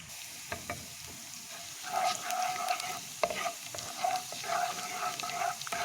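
Garlic frying in oil or ghee gives a light crackling sizzle with occasional stirring clatter, fairly quiet and steady with no talking.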